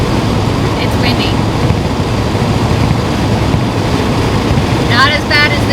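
Steady, loud wind roar fills the cabin of a 1992 C4 Corvette driving with its hatch vent open, continuous throughout, with brief faint voices under it.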